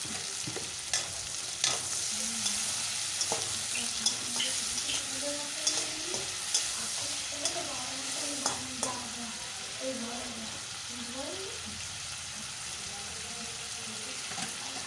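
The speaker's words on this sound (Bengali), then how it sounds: "চিংড়ি মাছগুলো কিন্তু আমি কড়া করে ভেজে নেব।" Prawns sizzle steadily as they fry crisp in oil in a wok, with occasional stirring scrapes and clicks over a constant hiss, and no voices.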